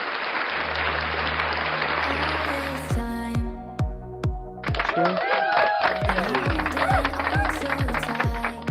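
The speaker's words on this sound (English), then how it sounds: "Let's get some applause for that song." Audience applause after a song during a live-streamed evening show: a dense burst of clapping at the start, then a steady electronic tone pattern with people talking over it.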